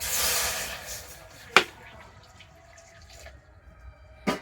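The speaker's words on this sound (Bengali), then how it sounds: "তো অল্প একটু জল আমি কড়াতে দিয়ে দিচ্ছি" Water poured into a wok on the stove, a brief splashing pour at the start that quickly fades, followed by a couple of sharp metallic clinks and faint kitchen sounds.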